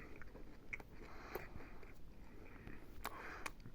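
Toast being bitten and chewed close to the mic, giving faint, soft crunches that come in small bursts over quiet room noise, with no speech.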